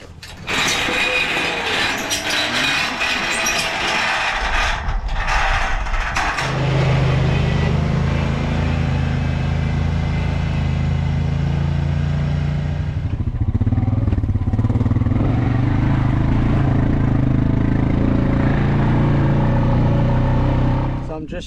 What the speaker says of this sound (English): I'm just shifting the irrigator out of the heifer's paddock